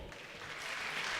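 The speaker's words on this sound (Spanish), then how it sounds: "Fuerte el aplauso para recibir a Ricardo Pipino." Audience applause welcoming speaker Ricardo Pipino onto the stage at a leadership and education talk, a steady dense wash of many hands clapping that swells slightly toward the end.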